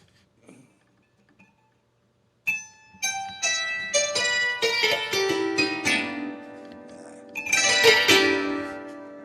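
A Bazantar is played and its sympathetic strings, tuned in fifths, ring out in a shimmering wash after a few quiet touches, with plucked attacks and long sustained resonance building and swelling close up, with no talk.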